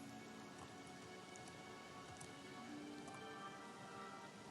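Steady rain patters and falls in a sewer setting in an RPG Maker role-playing game, a faint, constant wash of drops with no breaks.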